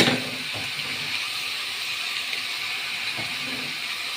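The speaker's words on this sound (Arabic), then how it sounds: "حطيت اللحمة. تمام. وحطيت معاها البصلة. هبدأ اشوحها" Meat and onion sauté in a pan with an even, close hiss of frying that runs steadily throughout, broken by a couple of faint clinks of stirring.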